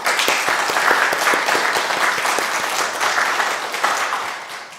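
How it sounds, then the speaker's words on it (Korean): A church congregation applauds the deaconesses who prepare the shared meal, sustained dense clapping from a crowded hall that holds steady and fades slightly at the end. "우리 식사 준비하시는 권사님들을 격려하는 박수 한번 쳐줍시다"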